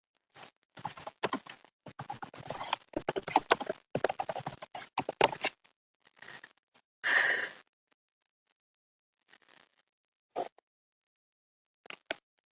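Computer keyboard typing during an agricultural webinar, heard as irregular bursts of close, clicky keystrokes in quick clusters, then scattered isolated taps separated by quiet gaps.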